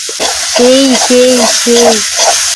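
A spice mix of onion, garlic and ground-paste gravy fries in a pan for pangas fish bhorta, with a hissing sizzle and three squeaky scraping strokes of the spoon in quick succession.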